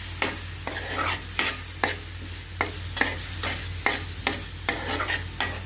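Tomato and coriander paste frying toward golden brown in a pan, turned with regular spatula scrapes roughly every half second over a constant sizzle and a low steady hum, close and without voices.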